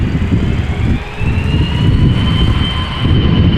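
A KLM Airbus A330-300 jet at Amsterdam Schiphol Airport gives a loud, steady engine roar with a rising high whine, continuous and close throughout, with no voices.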